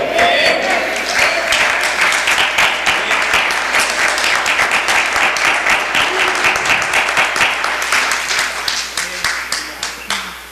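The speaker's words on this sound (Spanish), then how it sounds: "Él es digno de ese aplauso." A church congregation applauds in a sustained, dense burst of clapping that grows rhythmic and sparser toward the end, with a faint low hum beneath.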